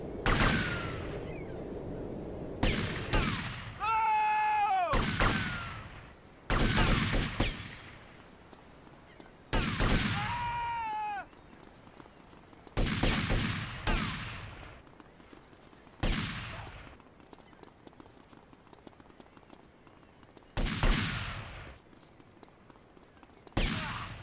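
Gunfire in the GTA Vice City game arrives as a series of loud, sharp bursts spaced a few seconds apart, each with a fading tail, with little talk over them.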